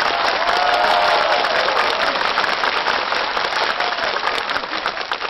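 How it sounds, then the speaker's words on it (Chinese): A studio audience breaks into sustained, dense applause to welcome a dance teacher onto a comedy talk-show stage, loud and steady throughout before easing slightly toward the end. "掌声有请。"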